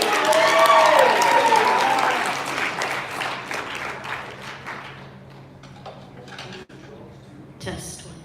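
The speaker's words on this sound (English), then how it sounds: "You gotta give him a bigger round of applause than that." Audience applause at an event fills the opening seconds, a dense wash of clapping that peaks early and then thins into scattered claps and crowd noise before fading out.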